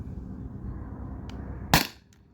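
A single sharp shot from a Beeman BP50 CO2 air pistol firing a ball from the magazine, a loud crisp pop standing out above steady low background rumble, with a faint click just before it.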